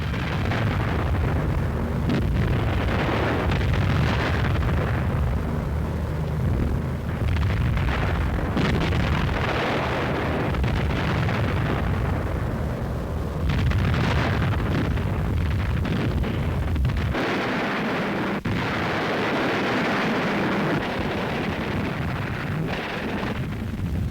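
Heavy wartime bombing explosions from World War II aerial raids on German rail yards, fuel and supply dumps: a continuous loud, rumbling barrage of blasts and booms with no voices.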